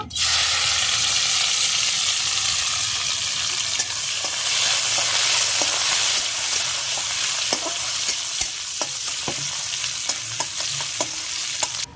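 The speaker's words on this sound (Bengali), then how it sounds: "তেল গরম হয়ে গেছে, রসুনগুলো একটু ভেজে নেব।" Garlic cloves frying in hot oil in a village-style home kitchen, a steady loud sizzle throughout with sharp clicks of stirring utensil against the pan scattered over the second half.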